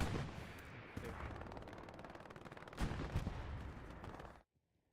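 Machine gun fire in the World War II shooter Hell Let Loose, a dense, continuous stream of rapid shots with overlapping battlefield gunfire for about four seconds, then cutting abruptly to silence.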